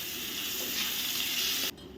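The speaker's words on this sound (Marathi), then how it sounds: "आता फोडणी एकदा आपण ढवळून घेऊया" Red chillies sizzle in hot oil in a pan, a tempering (phodni) being stirred for sambar. A steady, close hiss holds throughout, then cuts off abruptly near the end, leaving a much quieter background.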